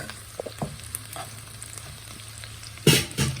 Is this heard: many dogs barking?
no